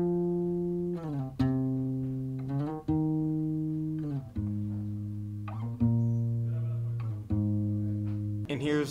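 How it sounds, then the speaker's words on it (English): Mellow guitar part from a sad lofi beat produced in Logic Pro X, playing slow sustained notes and chords that change every second or so, clean and close with no other instruments or voices. "So here's one of the guitars."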